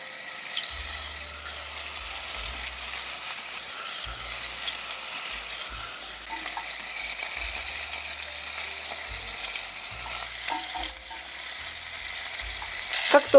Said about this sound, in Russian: теперь обжариваю в масле кусочки говядины со всех сторон на большом огне